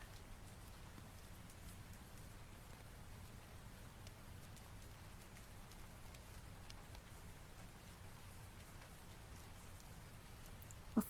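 Steady rain falling at night, a soft continuous hiss with low rumble throughout, fairly quiet, with one brief sharp knock at the very end.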